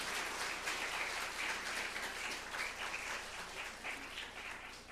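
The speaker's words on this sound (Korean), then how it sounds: "박수 치시면" Steady applause from a church congregation at a mission gathering, many hands clapping continuously at a moderate distance, quiet in level.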